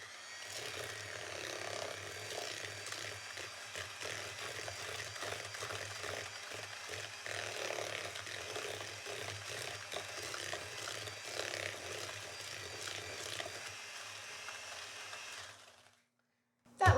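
Electric hand mixer beating butter and white sugar together for cookie dough, a steady whirring drone with rattling beaters that runs continuously for about fifteen seconds before cutting off.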